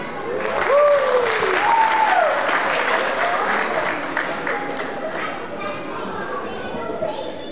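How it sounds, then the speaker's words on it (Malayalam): Applause from an audience at a church family night fills the hall, steady and loud, with children's voices and chatter mixed in as the clapping slowly tapers. "നിറഞ്ഞ കൈയടികൾ."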